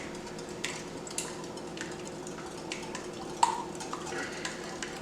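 Eggs are beaten in a bowl with quick, faint scraping and tapping strokes and an occasional clink, soft and close against a low background hum.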